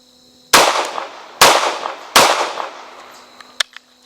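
Three loud CZ P09C Nocturne pistol shots at a shooting range, sharp reports spaced under a second apart with ringing decay, followed by faint metallic clicks.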